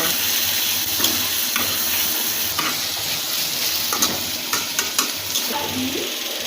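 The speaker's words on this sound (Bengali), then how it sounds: "কেটে রাখা কিছু পেঁয়াজ কিন্তু ভুনা করবো তাই পেঁয়াজটা একটু বেশি করে দিব" Onions sizzle and fry in a pan during cooking of a prawn curry, a steady close crackling hiss with occasional stirring clinks and scrapes, no talking.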